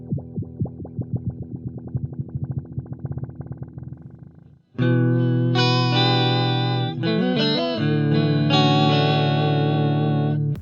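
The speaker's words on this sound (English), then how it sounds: "the Mod 11 gives you 11 different modulation effects and tap tempo" An Electro Harmonix Mod 11 modulation pedal shapes a synth-like tone, first a rapid pulsing tremolo-style stutter, then a sudden louder sustained chord swelling with warbling chorus and shifting modulation, played alone and clearly up front.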